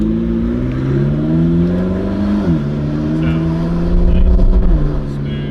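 A 1000-horsepower McLaren engine pulls hard as the car drives and accelerates, its loud tonal drone climbing in pitch with a gear change midway and another near the end, heard from close by inside the car.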